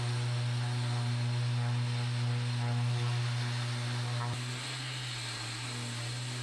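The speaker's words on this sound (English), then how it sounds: "I won't be without this sander, this Max C sander." A Max C electric sander works over a wooden plank at 150 grit, its motor giving a steady, close droning whine with a sustained tonal hum that runs unbroken and eases slightly near the end.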